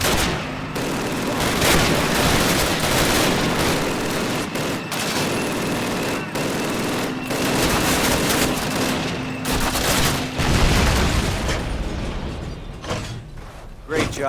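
Sustained gunfire from a World War II Call of Duty battle against German troops and tanks, with dense rattling bursts and heavy impacts running almost continuously at a loud, steady level.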